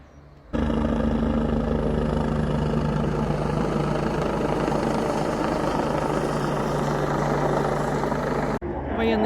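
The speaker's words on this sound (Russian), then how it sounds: "Почему-то вертолет этот либо учение проходит, либо он кого-то ищет." A helicopter flies nearby, thought to be on a military exercise or a search over the Normandy cliffs, its steady rotor and engine drone loud and constant through nearly the whole stretch before cutting off abruptly at the end.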